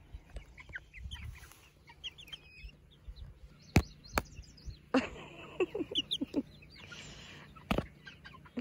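Backyard hens and a young rooster cluck and chirp in short, scattered bursts, with a few sharp louder calls standing out near the microphone against a steady low farmyard hum.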